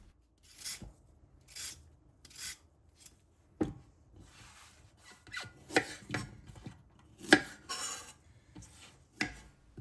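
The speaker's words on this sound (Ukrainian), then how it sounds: "Спочатку беремо моркву та чистимо її" A carrot is peeled with repeated rasping scrapes in short bursts, close and fairly quiet, with irregular pauses between strokes.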